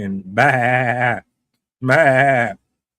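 A sheep bleats twice, loud and close: two drawn-out wavering calls of under a second each, separated by a short silence, with nothing else around them.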